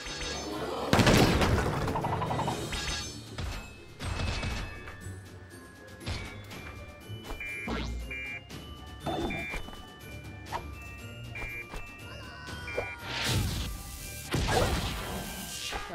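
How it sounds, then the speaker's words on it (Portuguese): Heavy bomb explosions in Mario + Rabbids Kingdom Battle burst out at the start and again near the end, with crashing impacts and tonal game sounds between. "os maluquinhos jogam bombinha"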